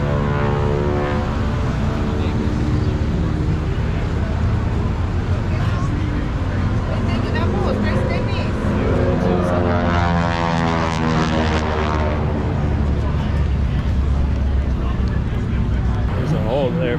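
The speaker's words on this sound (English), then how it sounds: "Navy plane over here. This might be Osprey." A Navy aircraft flies over at the Miramar Air Show in San Diego. A loud, steady propeller drone sweeps in pitch as it passes overhead, with crowd noise mixed in.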